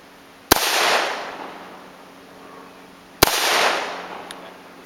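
Two loud single shots from an M16 rifle about three seconds apart, each a sharp crack followed by a long echoing decay across an open range, with no talking.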